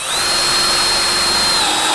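Cordless screwdriver drilling into Cedral fibre cement siding board, a steady high whine with a sustained pitch held for about two seconds, loud and close with no talk over it.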